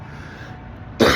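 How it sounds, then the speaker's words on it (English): A man on a podcast coughs once sharply and loudly right at the end, after a quiet stretch of low room tone. "I'm coughing because I could throw up right now."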